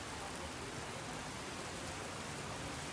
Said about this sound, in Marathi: एवढा जोरदार पाऊस आला एकदम